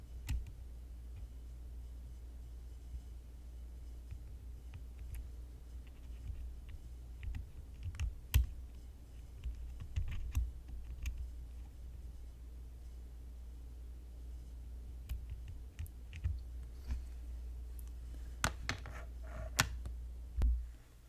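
Someone types on a KN85 mechanical keyboard with clipped, lubed stabilizers, producing soft, scattered key clicks and ticks over a low background hum, with a few sharper keystrokes standing out now and then.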